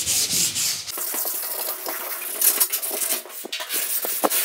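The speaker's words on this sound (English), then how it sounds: "So with new gloves, go ahead and start sanding everything up." Close, scratchy rubbing of sandpaper by hand against a sheet metal panel in short irregular strokes, with small metallic scrapes and no talking.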